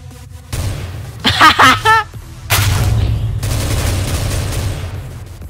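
Video-game gunfire bursts loudly over a low background hum, two sharp volleys separated by a brief pause, with a short voice-like tonal sound between them.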